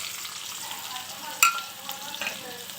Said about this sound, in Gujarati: હવે જીરું અને હિંગ થઈ ગયું છે તો હું કાપીને રાખેલી છે ડુંગળી એ નાખી દઉં છું.